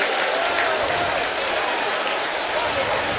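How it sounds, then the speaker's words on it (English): Stadium crowd at a college football game roars and claps after a 7-yard gain, a continuous broad wash of cheering and applause from a large, distant audience with no break throughout. "That's the biggest round of applause you will ever hear for a 7-yard pickup."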